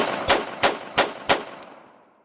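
Four sharp .22LR pistol shots from a Jimenez JA22 firing Aguila Interceptor rounds, evenly spaced about a third of a second apart, loud and close, each with a short ringing decay and no voices.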